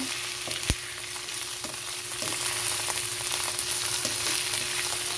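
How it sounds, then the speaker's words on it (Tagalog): Chicken and mushrooms stir-frying in a pan, a steady close sizzle with a sharp clatter of a utensil near the start and soft stirring scrapes throughout, no voices. "Pwede na po nating ilagay ang ating mushroom. At haluin lamang natin."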